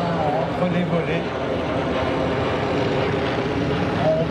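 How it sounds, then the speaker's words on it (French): An airplane's engine drones steadily and loudly as it flies at the La Ferté Alais air show, a continuous propeller roar under someone speaking in French. "On cadre l'avion, on affiche la poussée qui va bien, on rentre le train, on rentre les volets."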